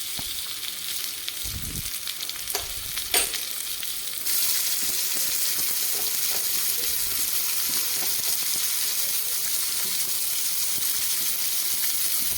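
Slit green chillies are stirred into okra curry in an earthen pot with handles, first with a few soft knocks and scrapes over a low simmer, then with a steady, louder bubbling sizzle that runs to the end.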